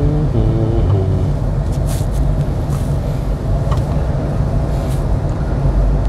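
A car driven by a learner on a Korean road accelerates with a steady low engine drone and road noise, loud and continuous for several seconds.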